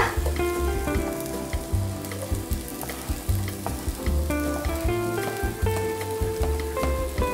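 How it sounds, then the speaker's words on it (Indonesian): Garlic hits a hot frying pan alongside browned beef and baby green beans, giving a loud, busy sizzle with repeated scraping stirs and spatters, close and steady throughout. "Baru kita masukin bawang putihnya ya"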